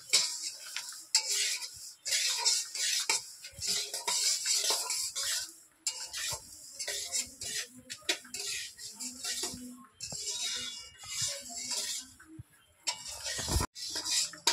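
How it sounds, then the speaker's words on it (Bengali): A spoon stirs semolina with bay leaf and cardamom in a pan, giving irregular light scrapes and clicks against the metal, close and fairly quiet throughout. "দেখো তেজপাতা আর এলাচ দিয়ে দিয়েছি, দিয়ে ভালো করে এটা মিক্স করে নেব একসঙ্গে।"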